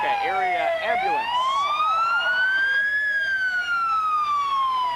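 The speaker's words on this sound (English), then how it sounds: "I can't hear a thing, thanks to the sirens" Wailing emergency vehicle sirens from an ambulance and fire trucks in a small-town Fourth of July parade, loud and continuous, one siren sweeping up and down over steady crowd and street noise.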